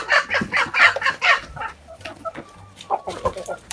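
A hen clucks repeatedly in close, rhythmic bursts, then softer scattered clucks and a few chirps follow.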